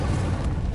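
An Incendio fire spell goes off in a wizard video game as a short, loud, low rumbling whoosh of flame lasting under a second.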